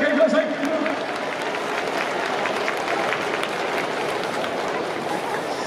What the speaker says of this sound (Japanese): 皆さんどうぞ温かい拍手でお迎えください。